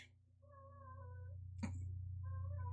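A male domestic cat meows twice, clear and fairly close, with a pause between the calls, over a steady low electrical hum. No one speaks.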